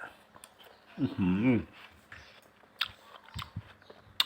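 Crunchy, sweet, firm watermelon being chewed up close: moist crisp bites and scattered crunchy clicks, with a short spoken exclamation mixed in.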